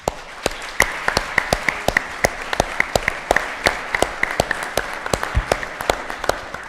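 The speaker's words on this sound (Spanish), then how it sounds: "se llama Eduardo Ruiz Aviñón, para quien pido también, por favor, un aplauso, por favor." Audience at a theatrical memorial celebration applauding steadily, a dense wash of clapping with sharp individual claps standing out, close and loud throughout with no speech.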